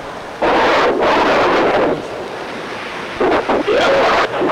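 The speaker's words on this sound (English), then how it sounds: "Sorry, it's all windy." Strong gusty wind buffets the microphone in loud, roaring bursts that rise, ease, then surge again, with no voices.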